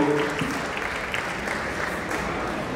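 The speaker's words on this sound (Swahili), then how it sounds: "tunapiga na makofi mengi ya NMB Bank kwa mchango wao huo" An audience claps steadily and fairly loudly at a fundraising event, the applause continuous throughout without talk.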